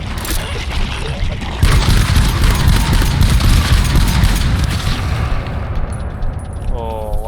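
Shotgun blasts in a rhino-hunting video game crack out over a dense, noisy game soundtrack, with continuous loud action and a player talking excitedly throughout.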